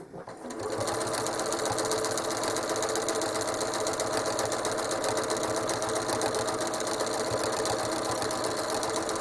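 A sewing machine runs steadily, stitching swirl lines across the top of a holiday stencil quilt. The motor hum is continuous, close and fairly loud, and carries on alone without pause.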